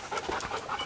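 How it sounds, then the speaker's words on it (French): Baroque, an old hunting dog, pants rapidly and close up, a quick breathy rhythm of short huffs repeating steadily through the moment. "c'est mon chien de chasse"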